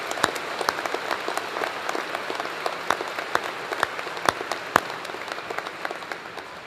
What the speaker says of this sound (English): Please join me in a round of applause to show our appreciation for their leadership